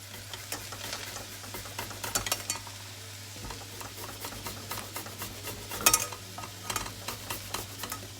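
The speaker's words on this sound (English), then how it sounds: "in goes the ginger." Ginger frying in a pan with long beans and cabbage, a constant sizzle with scattered scraping and clinking of a utensil, close and moderately loud over a low steady hum.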